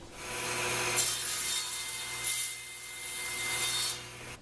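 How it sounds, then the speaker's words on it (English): A wooden dowel turned by hand through a chisel dowel maker, rasping and scraping in slow repeated strokes with short pauses between turns, close and moderately loud over a constant low hum. "just turning the dowel in here by hand"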